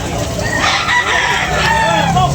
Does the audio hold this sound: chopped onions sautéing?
no